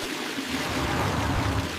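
Water gushes steadily from an opened tap, a continuous broadband rush with a low rumbling undertone, close and fairly loud, with no talking over it.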